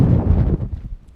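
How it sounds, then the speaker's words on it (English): Strong gusts from Hurricane Kay battering the microphone beside a parked VW bus, a loud low rumbling wind noise that surges and then fades in uneven bursts. "It's windy. No moisture yet."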